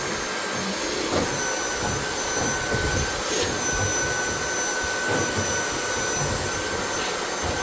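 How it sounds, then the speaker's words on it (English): A portable vacuum fitted with a thin hose reaches deep into the lint trap of an LG WashTower dryer, giving a steady, loud suction roar with airy hiss that runs without a break and without talk. "If you have a portable vacuum, you can buy one of these portable hoses and just stick the hose deep inside to the lint tray"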